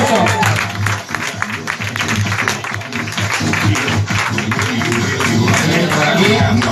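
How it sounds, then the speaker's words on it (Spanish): Audience applause for a participant at a bike trial show held at a motorcycle dealership, loud dense clapping sustained throughout with crowd noise and some voices mixed in. "un fuerte aplauso para Marta"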